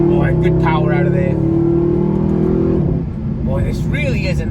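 A Mercedes-Benz AMG SLS engine pulls hard out of a corner, a loud sustained roar rising then easing, with someone talking over it toward the end.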